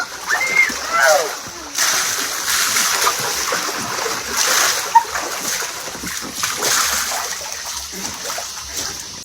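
Water splashes and sloshes continuously in a backyard swimming pool, loud and close, with voices mixed into the watery churn.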